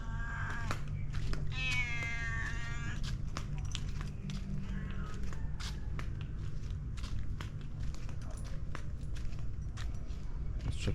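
A cat meows near a pool area at a garden resort on Ko Samui, with a clear harmonic meow early on, followed by scattered clicks and footsteps over a steady low hum.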